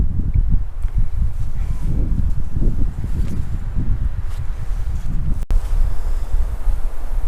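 Steady wind buffets a microphone on a mountain trail in the Kaiser Peak Wilderness, a continuous low rumbling roar with gusty surges and no voices.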